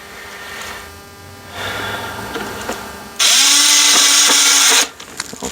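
Power drill driving screws into a Ford dashboard, quiet handling noises first, then one loud, steady whirring burst of about a second and a half that stops abruptly, close up.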